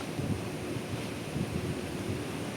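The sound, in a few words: strong typhoon wind outside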